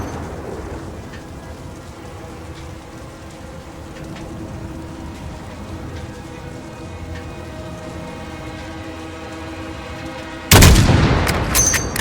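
Sustained crackling gunfire in Call of Duty: Modern Warfare (2019) rattles on continuously for several seconds, ending with a sharp, louder burst near the end.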